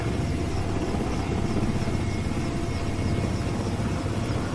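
An Indian Air Force Western Command rescue helicopter flies over flood-hit areas of Himachal, its rotor and engine a loud, steady, close thudding drone throughout, with no voices.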